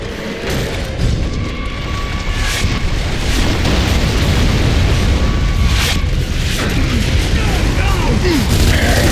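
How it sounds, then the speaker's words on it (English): A mortar round explodes in a sci-fi war shooter, a deep booming blast followed by sustained rumbling debris and battle noise that stays loud throughout. "Mortar!"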